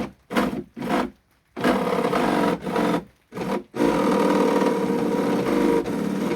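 Boat jet drive motor, engaged on a dry test run, spins the impeller as the throttle comes up from neutral: short motor bursts separated by silences, then a steady, sustained whirring hum.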